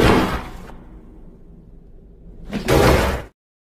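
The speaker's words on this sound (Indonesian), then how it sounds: "Polisi juga sudah berhasil menjebol pintu dan si Jack langsung ditembak." A heavy door forced open in a film sound effect: a loud crashing impact, a trailing rumbling decay, then a second harsh burst of crashing noise before sudden silence.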